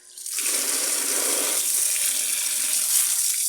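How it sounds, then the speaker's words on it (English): Water splashes and swishes steadily as laundry is rinsed by hand in a basin during a third rinse, a loud continuous close-up wash with no talking. "I'm gonna need a third rinse just to make sure nothing's left in there"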